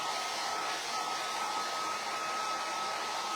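A hair dryer blows steadily on freshly applied chalk paint, a close, constant whooshing hum with a faint whine and no breaks or voices.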